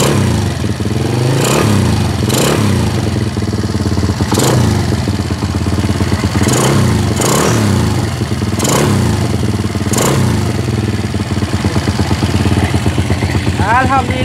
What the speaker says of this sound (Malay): Mesin pun bunyi senyap. Bunyi pun bunyi standard je.